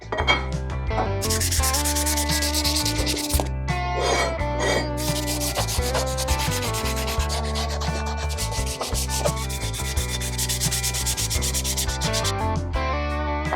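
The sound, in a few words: sanding aluminum motorcycle top end with 220 grit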